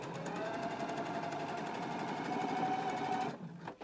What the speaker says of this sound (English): stitch the side seam for the flap lining at a 5/8 of an inch seam allowance.